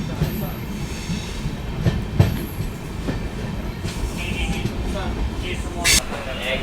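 A train with new LHB coaches runs from Tiruchirappalli toward Thiruvananthapuram, its steady rolling rumble and faint wheel clatter heard from aboard, with occasional squeals and clanks and a voice speaking over it.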